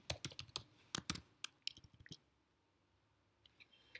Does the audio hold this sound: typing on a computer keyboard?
yes